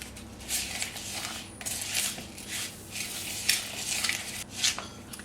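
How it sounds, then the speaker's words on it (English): Ingredients for cinnamon rolls being mixed in a bowl: a series of scraping, swishing stirring strokes in an uneven rhythm, close and moderately loud, with no talking. "Can you mix that up?"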